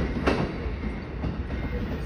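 An Amtrak Silver Meteor passenger train, number 98 bound for New York, rumbles past in Savannah, Georgia, a continuous loud rolling roar with faint wheel clatter and no talking.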